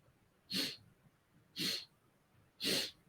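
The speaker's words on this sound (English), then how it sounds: "So inhale from 4 sniffs." Three short, sharp nasal sniffs in a beginners yoga breathing exercise, evenly spaced about a second apart, close and clear in a quiet room.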